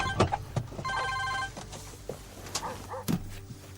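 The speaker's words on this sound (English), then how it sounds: "and the phone starts ringing." A telephone rings in a film scene, with several short ring bursts spaced across a few seconds, clear against faint background noise.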